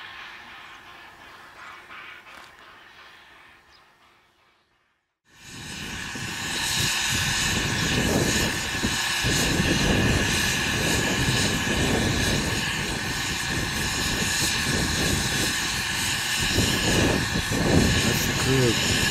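A single-headed freight locomotive stands idling in a passing loop near Jingpeng, China. After a few quiet seconds, a loud, steady diesel drone sets in and holds close and constant.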